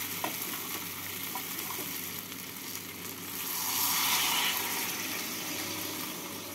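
Jackfruit and potato curry for prawn kalia being stirred in a pan after hot water is added, a steady close bubbling sizzle and scraping that swells louder midway, with no talk.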